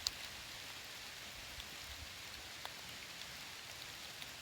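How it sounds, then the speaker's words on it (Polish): Light steady rain patter outdoors under an overcast sky, a soft even hiss with occasional faint drips, fairly quiet and continuous with no voices. "Niebo zachmurzone. Pada."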